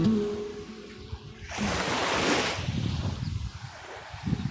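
Calm sea waves wash onto a beach at Obzor, Bulgaria, a soft surf wash swelling in the middle of the stretch over steady wind noise, fairly faint and with no talk.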